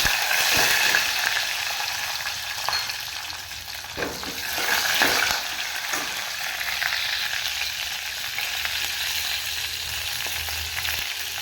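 Green chilies and dried red chilies sizzle in hot oil with cumin and asafoetida tempering, a steady close frying crackle with occasional stirring scrapes, no voices.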